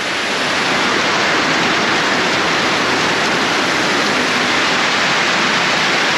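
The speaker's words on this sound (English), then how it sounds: "I'm gonna wait for the rain to stop" Steady, dense broadband hiss of heavy rainfall, unbroken and fairly loud throughout, with no voices or other distinct sounds.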